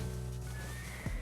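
A horse neighs in Black Desert, a short whinny rising near the end of a brief clip over steady game music with a faint tonal hum.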